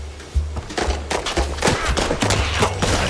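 Gunshots in the video game Mouse P.I. for Hire crack out in an irregular volley of sharp reports over a low, steady game backdrop, some shots louder and closer than others.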